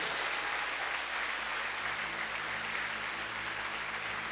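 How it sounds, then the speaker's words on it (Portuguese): Sustained, dense applause from a church congregation at a worship service, a steady wash of clapping filling the room at even loudness for the whole stretch. "Uma salva de palmas ao Bauer."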